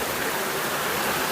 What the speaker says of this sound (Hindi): यहाँ ये गंगा जी की धारा बहती है इनकी कृपा से